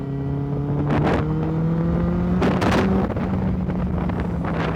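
2015 Benelli BN600i inline-four motorcycle with an under-seat X55 exhaust, a steady engine drone with rising revs heard on the move, near and loud, buried under heavy wind noise buffeting the microphone throughout.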